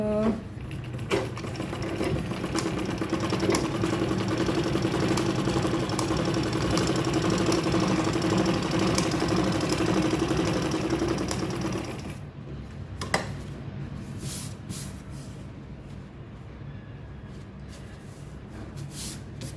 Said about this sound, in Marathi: अशा प्रकारे आता ह्याला स्टिच करून घेऊ आपण.